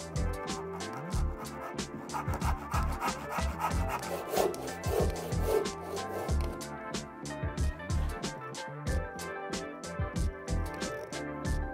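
A hand saw cutting away excess wood for a wooden joint, a close, steady series of rasping strokes in a regular rhythm with brief pauses, no talk over it.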